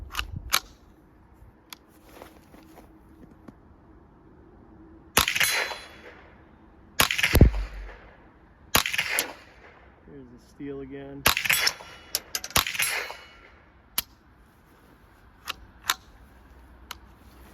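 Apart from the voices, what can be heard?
suppressed .22 shots, Surefire Ryder 22-S on Ruger rifle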